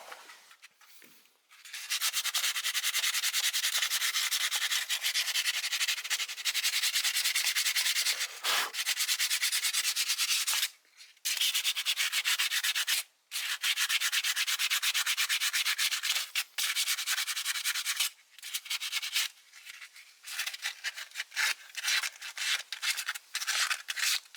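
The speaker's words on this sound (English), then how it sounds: "we're just gonna get some sandpaper and sand it down a little" Sandpaper rubs on the EGR valve gasket surface of a 2002 Mustang in steady, close, rasping strokes, continuing for long stretches with brief pauses between passes.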